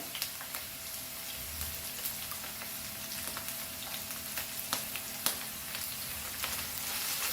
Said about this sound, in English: now we will add our capsicum also to this, and fry this capsicum